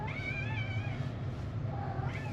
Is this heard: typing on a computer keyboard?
no